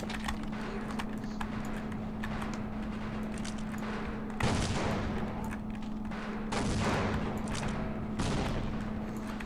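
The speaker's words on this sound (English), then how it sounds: "It's actually a very good reason why I'm spamming so many grenades right now." Grenades exploding in the Half-Life video game: several heavy broadband blasts over a constant humming drone, with rapid clattering between them.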